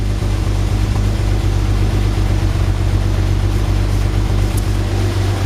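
A Fiat 130 car engine idles steadily with a low, throbbing rumble, fairly loud and close, without obvious sharp revs.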